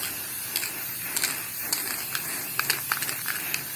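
Aerosol can of gray acrylic primer sprayed on a Honda Civic EG hatch battery tray, a steady airy hiss with short bursts and faint rattles, close by.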